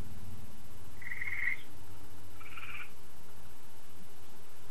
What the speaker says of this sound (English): What's with the frog mating call out there, Tim?